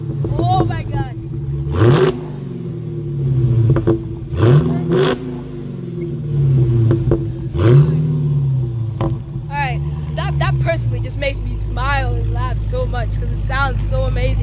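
A modded Dodge Challenger Hellcat with a six-speed manual revs repeatedly in several loud, rising bursts that fall back to idle, with excited talk over and between the revs, then a steady idle rumble under continued speech.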